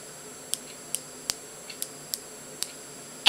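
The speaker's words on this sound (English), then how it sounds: "It's called the click stick just because it makes clicking noises when you turn it" Cherry Carmex click stick lip balm being turned, giving about seven small, sharp, evenly spaced clicks close by in a quiet room, ending with a slightly louder snap.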